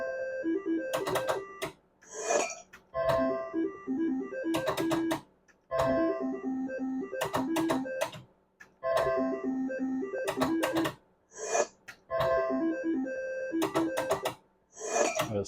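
Slot machine spins repeating in cycles: whirring reel mechanics, chiming electronic tones and short jingles, each spin ending in a brief pause before the next, close and steady with no talk.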